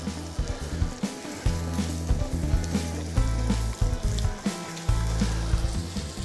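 Veal escalopes frying in hot butter in a pan, a loud continuous sizzle and crackle close by, with steady spitting and popping throughout and no talk.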